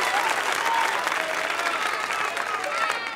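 A comedy show audience in Meyrin, Switzerland, claps steadily for a few seconds, dense and even, with no talking over it.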